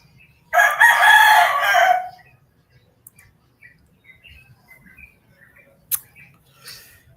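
Roosters crowing nearby in a loud, drawn-out burst near the start, followed by scattered faint clucks and chirps and one short sharp call later on, with no speech over them.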